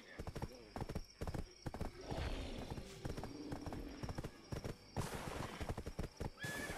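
Rhythmic clip-clop of horse hooves with a whinny from a mount in the online game Black Desert, loud and steady throughout, with a person talking over it.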